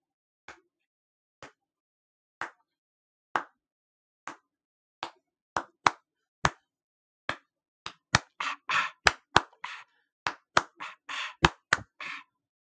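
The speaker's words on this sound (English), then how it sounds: "Let's give a real hand of applause to Russ." Sparse, sharp hand claps begin slowly and pick up into a quicker, uneven burst of clapping, like a small handful of people applauding up close.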